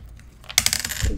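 Small metal charms clink together in a mesh bag: a quiet start, then a sharp burst of close, bright metallic jingling that rattles on briefly.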